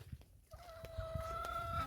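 Chickens in a home courtyard cluck in short bursts, joined by a sustained, tonal crowing-like call from a rooster or hen, close and fairly loud with no talk.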